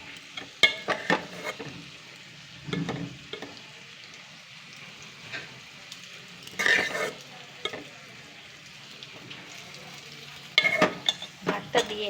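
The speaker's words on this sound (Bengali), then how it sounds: "ভাত দিয়ে দিয়েছি, ভাত দিয়ে ভালো করে নাড়িয়ে নেবো।" Rice stirred into hot oil in a cooking pot gives a soft, steady sizzle with scattered scrapes and knocks of a spoon against the pot, louder bursts now and then over a low hiss.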